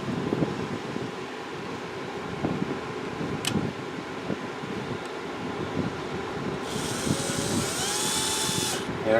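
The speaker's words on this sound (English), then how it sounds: "I'm using a drill driver" A drill driver whirs near the end, driving screws into an Axial Wraith RC crawler during assembly, over steady background noise and some handling sounds.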